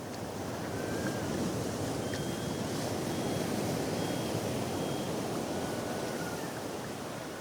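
Pacific Ocean surf roars in a dense, continuous wash, with waves crashing steadily throughout, loud and unbroken against a windy background.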